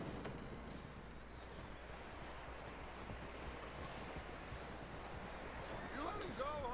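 Horse hooves clip-clopping through snow in Red Dead Redemption 2, a steady close rhythmic trot continuing throughout beneath a wash of wind and ambient noise.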